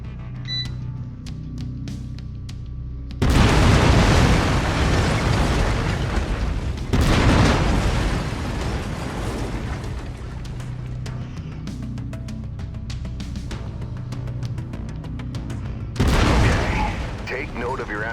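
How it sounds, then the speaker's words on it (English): A mech's autocannon firing in the MechWarrior 5: Mercenaries game, heavy booming bursts that land about three times and roll on into a long, loud, rumbling barrage. "I've mapped the autocannon to Weapon Group 1."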